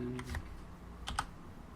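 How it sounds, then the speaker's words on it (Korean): Keys on a computer keyboard are pressed in a short sequence of quiet, crisp clicks, a few taps early and a couple more about a second later, with no voices over them. "딜리트 키를 누르면 삭제되고"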